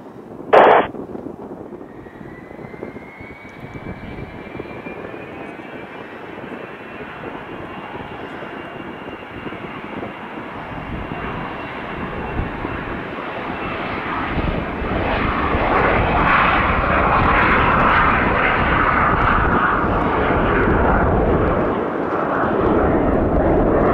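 U.S. Army Beech RC-12X Guardrail King Air, a heavily modified twin turboprop, taking off from a runway at Montreal: after a short click, a steady turboprop whine and roar builds gradually and grows louder and fuller over about twenty seconds.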